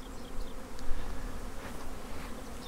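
Honey bees buzz steadily around nucs on pallets in a bee yard, a dense continuous drone of many insects close by with a few individual bees passing louder near the ear.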